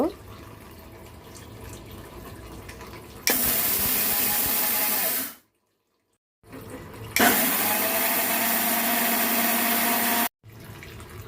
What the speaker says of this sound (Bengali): তার জন্য আমি মাসকলার ডালগুলোকে ব্লেন্ড করে নেব।